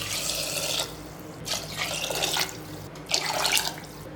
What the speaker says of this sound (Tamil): நல்லா தாராளமாக தண்ணி சேர்த்துக்கோங்க.